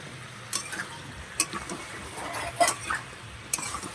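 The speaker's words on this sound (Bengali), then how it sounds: "এটাকে ভালো করে ভেজে নেব এবার।" Brinjal, potato and other vegetables for a Bengali fish curry frying and being stirred in a pan, a soft steady sizzle under scattered clinks and scrapes of a spatula against the metal.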